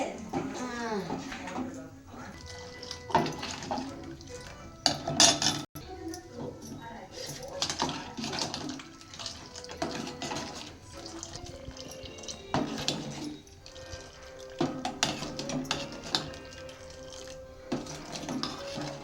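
Millet flour ambali porridge is stirred in a pot, giving soft wet scraping and sloshing with occasional clinks of the utensil against the pot, under near, ongoing conversation.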